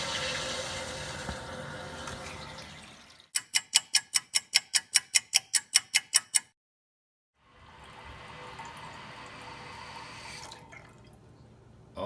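A two-piece toilet tank fills with water in a steady rushing hiss, broken by a run of about a dozen sharp, evenly spaced ticks and a short silence before the filling hiss resumes, close and alone.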